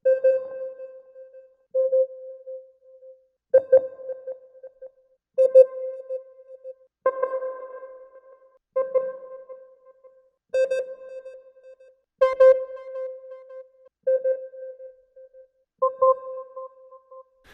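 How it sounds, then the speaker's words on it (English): Sine wave notes from several different analog synthesizers sound one after another, about ten separate sustained tones with short gaps, clean and pure, some with faint upper overtones. "I just want to play one single note so you can just hear, wow, like sine waves can be a lot of different things."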